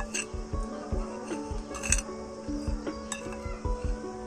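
Onion paratha ingredients are mixed in a bowl, a metal spoon tapping and scraping against the side in a quick, regular rhythm with occasional brighter clinks, close and clear without talk.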